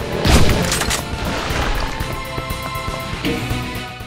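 A barrel blows up from a shot in Doom 2, a loud booming blast up front followed by a dense clatter of game action and gunfire.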